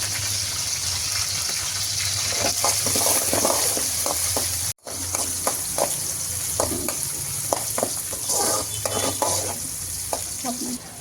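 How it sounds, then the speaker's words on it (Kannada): Onion, carrots and beans frying in oil for egg noodles, a loud continuous sizzle with repeated stirring scrapes and clinks, close up and alone, with one brief dropout partway through. "ಈರುಳ್ಳಿ ಫ್ರೈ ಆದಮೇಲೆ ಕ್ಯಾರೆಟ್ ಮತ್ತು ಬೀನ್ಸ್ ಕೂಡ ಹಾಕೋತಾ ಇದ್ದೀನಿ"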